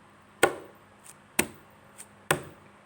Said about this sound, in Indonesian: Pertama pukul meja.